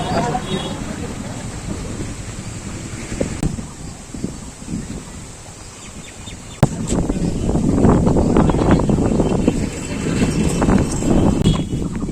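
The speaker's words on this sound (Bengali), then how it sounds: "প্রচুর বাতাস আসলে গ্রামের রাস্তা দেখেন" Strong wind sweeps along a village road, a rushing roar that buffets the microphone and grows louder and rougher in the second half after a sharp knock.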